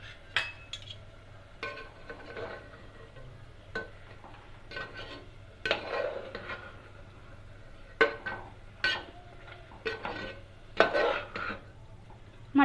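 Mutton with turmeric being stirred in a pot, a spoon scraping and clinking against the metal in irregular strokes, moderately close over a low steady hum, with no talking.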